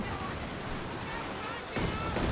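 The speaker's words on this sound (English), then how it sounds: "Barraging those mortars." A Company of Heroes 2 mortar barrage booms in dense, overlapping blasts and rumbling explosions that blanket the scene, swelling louder toward the end.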